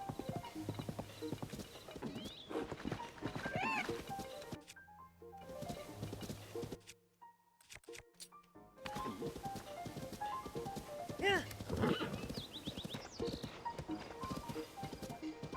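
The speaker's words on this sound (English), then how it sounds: "Come on, horsey, let's go." Hooves clip-clop steadily from a horse in Zelda: Tears of the Kingdom, with occasional neighs and whinnies, fairly close and continuous, set against in-game background music.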